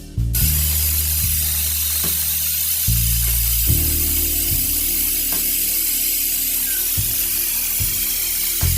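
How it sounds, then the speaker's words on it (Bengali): A pressure cooker whistles while haleem cooks, giving off a loud, steady hiss of escaping steam for nearly the whole stretch, with a low mechanical rattling underneath and no voices. "দেখলেন বন্ধুরা সিজ দিল।"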